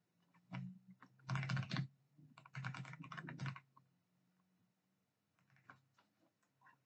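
Bursts of computer keyboard typing, close and crisp, with a dense clatter of keys in two main runs and a few scattered taps afterward.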